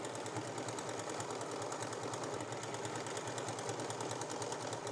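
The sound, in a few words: serger overlocking raw fabric edge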